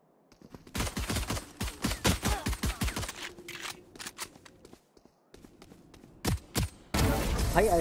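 Valorant video game gunfire rips through in rapid bursts of loud, close shots, with footsteps and brief pauses between volleys and a dense burst at the end.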